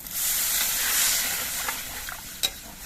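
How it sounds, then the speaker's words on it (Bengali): Broth splashes into a pan of spice paste that has been fried until the oil separates, raising a loud, steady sizzle close by. The hiss fades slightly, with a few small pops and one sharp spurt near the end. "এবার এর মধ্যে আমি অল্প করে ঝোল দিয়ে দিচ্ছি"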